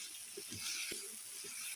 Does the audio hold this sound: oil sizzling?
yes